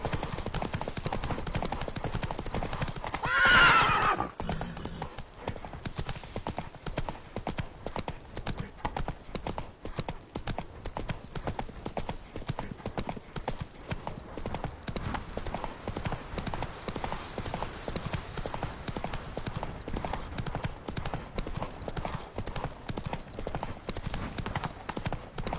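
A horse gallops steadily in The Witcher 3, with continuous rapid hoofbeats throughout and a brief louder burst near the start, under game ambience.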